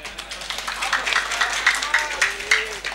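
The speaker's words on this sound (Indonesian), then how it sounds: "Tepuk tangan." Audience applause at a religious gathering, a crowd clapping in a fairly rhythmic, moderately loud patter with faint voices mixed in underneath.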